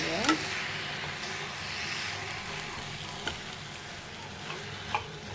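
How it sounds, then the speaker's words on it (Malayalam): Steady broadband frying hiss of a mixture being stirred in a hot pan for a snack, with a few faint scrapes and clicks of the spoon scattered over the sizzle. "ഇതെല്ലാം കൂടെ നന്നായി മിക്സ് ചെയ്യുക."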